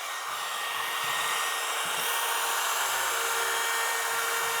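A battery-powered Makita router fitted with a small roundover bit runs steadily as it edges wood for a skateboard rack, giving a continuous high-pitched whine at close range with no talk.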